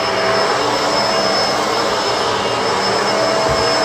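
A Bissell Multi Clean Allergen Pet vacuum cleaner runs steadily and loudly, a continuous close-up motor whine and airflow roar with no break.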